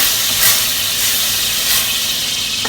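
Tomatoes hit a hot pan for a vegetable lasagna sauce, giving a loud, steady hiss and sizzle that runs unbroken for the whole moment with no voices.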